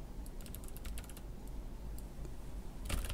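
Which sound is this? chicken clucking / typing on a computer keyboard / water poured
typing on a computer keyboard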